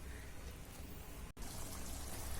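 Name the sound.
water rinsing fish before cooking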